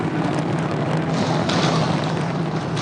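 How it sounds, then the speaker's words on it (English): Sonic boom from a Super Heavy rocket booster descending to land, heard as a loud, continuous rumbling roar that stays dense and steady throughout. "And we just heard the sonic boom."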